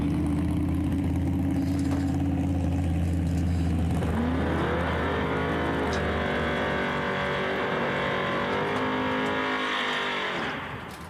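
A Chevelle and a G8 accelerate down a drag strip at a street-car racing event, engines roaring loudly and climbing steadily in pitch through several gears before easing off at the end, with no talk.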